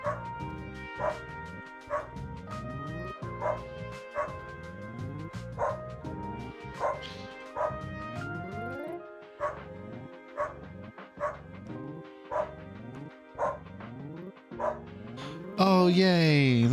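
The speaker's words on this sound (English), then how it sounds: "We're petting doggos." Cartoonish dog barks and yips from a video game, heard while the dogs are petted, repeating in short bursts over a bright melodic game music loop, with a sudden chime burst near the end.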